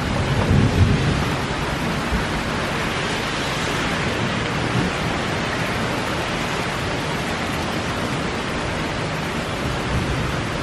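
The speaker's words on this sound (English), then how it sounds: "I cannot believe how hard it's raining out here and it's thundering." Dense, steady roar of heavy rain filling the whole clip, with a low rumble of thunder swelling near the start before fading into the constant downpour.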